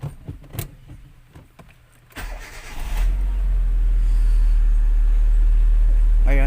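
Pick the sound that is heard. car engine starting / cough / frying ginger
car engine starting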